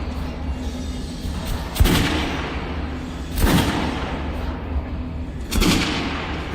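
Gunfire at shooting-range dummies in the video game Metro Last Light Redux: three loud, separate shots with sharp bursts and brief tails, spaced about two seconds apart over a steady low ambient hum.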